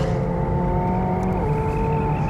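A McLaren 720S Track Pack supercar accelerates hard, its engine note loud, close and steady as it rises and shifts pitch midway.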